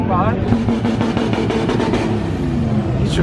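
A BMW at a large car meet revs its engine repeatedly while driving around, a loud rising and falling roar close by, with crowd voices and chatter mixed underneath.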